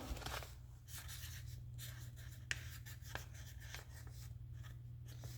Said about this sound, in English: I usually always write on their sticker pack, which I am going to do right now.